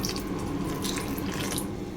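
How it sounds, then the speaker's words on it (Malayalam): Hot salted water pours steadily onto washed cauliflower florets for a Gobi Manchurian, a continuous close splashing gush with no talk. "ഇനി ഇതിലേക്ക് ഉപ്പിട്ട് ചൂടാക്കിയ വെള്ളം ഒഴിച്ചിട്ട് ഒരു 5 മിനിറ്റ് നമുക്ക് വെക്കാം"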